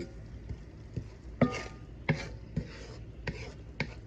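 A utensil scrapes and taps in an uneven rhythm while beef and a sugary sauce are stirred in a pan over moderate stove heat. The sounds are fairly soft and close, with a faint sizzle underneath.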